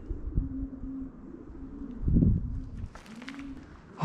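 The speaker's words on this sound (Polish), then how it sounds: "To są ptaki." Pigeons in an abandoned factory give low cooing calls, repeated and fairly faint against a hollow, rumbling background with scattered knocks.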